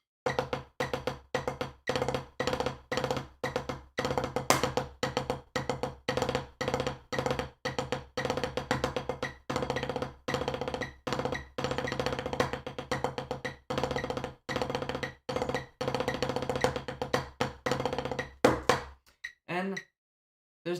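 Steady snare drum strokes in a rapid, even rhythm of decayed strokes filled in with full single strokes, played close and crisp, continuing for about nineteen seconds before stopping.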